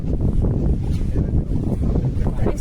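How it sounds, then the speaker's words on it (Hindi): Strong gusts of a night storm over a village buffet the microphone in a constant low, rumbling roar that swells and dips throughout. "तो रात में आंधी आ रहा है"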